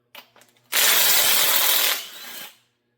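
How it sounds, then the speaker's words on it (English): A 1/2 inch Master Force impact wrench hammers loudly on a small-block engine's main bolts in one burst lasting just over a second, after a few light metallic clicks, then fades as it spins down. "Will the 1/2 inch Master Force impact pull out these main bolts?"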